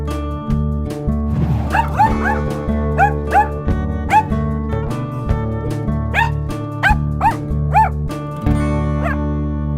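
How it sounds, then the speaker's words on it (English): A dog yips and barks in short repeated bursts, some whimpering in between, close and loud over a steady droning musical backing. "My dog is barking."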